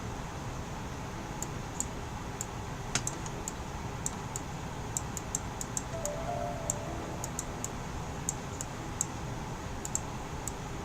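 Typewriter keys being cleaned and struck, the machine said to have typed the letters, give sparse, irregular light clicks and ticks over a steady low hum, with no talking.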